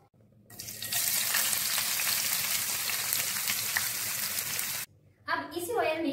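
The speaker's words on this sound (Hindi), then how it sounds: "सबसे पहले प्याज को फ्राई कर लेंगे" Onions dropped into hot refined oil in a pan, a loud continuous sizzle and hiss that cuts off abruptly, followed by a short burst of talking.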